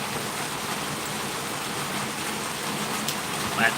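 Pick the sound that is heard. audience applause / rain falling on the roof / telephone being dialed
rain falling on the roof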